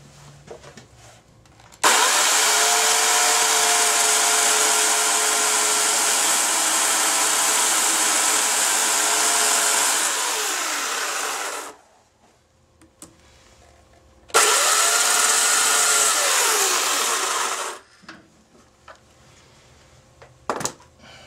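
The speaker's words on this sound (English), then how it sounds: "if I take my chainsaw and cut it at an angle" A chainsaw cutting into an oak log at an angle, a loud sustained engine roar for several seconds that drops to idle, then a second shorter burst of cutting, close by with no talk.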